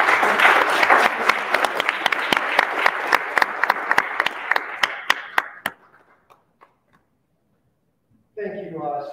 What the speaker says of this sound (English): Ladies and gentlemen, round of applause for A.J.